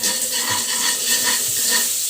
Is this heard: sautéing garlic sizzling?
yes